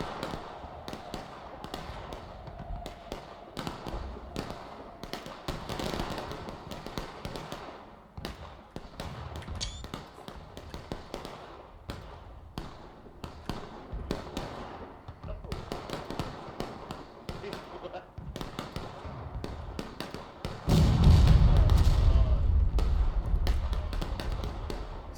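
Civil War artillery cannon firing in the multiplayer game War of Rights: one heavy, loud boom near the end strikes after a long stretch of quieter, scattered battlefield noise and thuds, its low rumble lingering.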